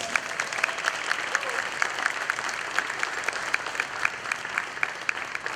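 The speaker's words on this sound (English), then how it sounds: "Please give Mr. Duplantis another round of applause." Audience at a Houma Terrebonne Community Band concert applauds steadily, a dense patter of many hands clapping at moderate distance, sustained evenly without a break.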